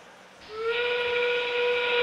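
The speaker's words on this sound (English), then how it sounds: "That whistle means we've got 20 seconds." A loud, steady tonal whistle blows at a FIRST robotics qualification match, starting half a second in and holding its pitch to the end over faint arena background.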